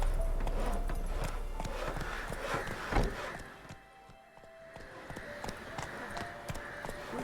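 Horse galloping in The Witcher 3 video game, a steady clip-clop of hooves under ambient game sound, with a voice speaking over it.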